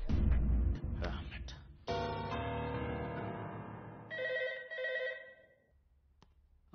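Telephone ringing in a film scene, a loud electronic ring with steady harmonic tones repeating in bursts, ending in quiet.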